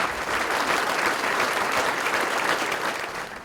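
Indoor audience applauding steadily to welcome officials at a Remington Outdoor Company expansion announcement in Huntsville, a dense, even clapping that fades slightly at the end.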